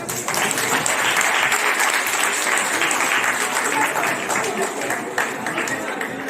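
Hall audience at a foundation-day honors ceremony in Delhi claps in sustained, even applause that holds steady for several seconds, with faint voices mixed in.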